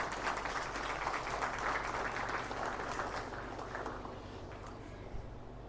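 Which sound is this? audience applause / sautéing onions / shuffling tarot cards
audience applause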